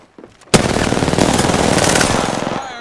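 Sustained, loud rapid gunfire in the Apex Legends video game, a continuous automatic burst erupting after a brief quieter moment and running nearly to the end, with no talking.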